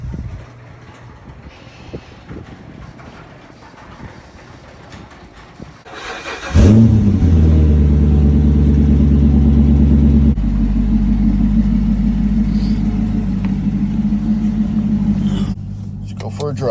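A 2014 Chevrolet Corvette C7 Stingray engine starts abruptly and settles into a loud, steady low rumble with a slight rise in revs, following quieter ambient noise and light talk before it.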